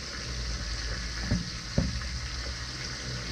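Vegetables and beef are stirred in a pan while frying: a dense, constant sizzle with two brief scraping knocks of a utensil partway through.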